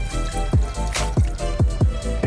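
One liter of water is poured into a pot of curry chicken at a Malaysian street food stall, heard as a loud, close splashing pour with regular rhythmic glugs and drips.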